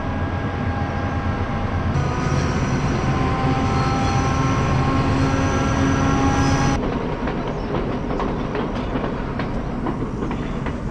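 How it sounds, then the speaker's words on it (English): A passenger train runs along the track at Ella, Sri Lanka, with a steady rumble, clattering wheels and a long sustained tonal hum that cuts off partway through, loud and close, with no voices. "There's a train coming."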